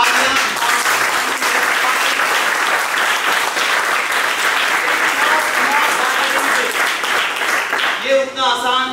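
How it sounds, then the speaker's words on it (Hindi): A crowd at a cricket league final applauds loudly, dense clapping sustained for about eight seconds before a speaker's voice takes over at the close. "सबसे पहले सबके लिए जोरदार तालियां।"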